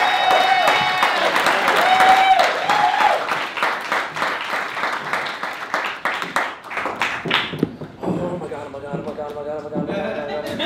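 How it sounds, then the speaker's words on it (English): A studio audience at a late-night improv comedy show applauds the performers Bobby Kitten and Zero, steady clapping mixed with crowd noise and voices talking over it, thinning toward the end. "let's give another big round of applause for Bobby Kitten and Zero"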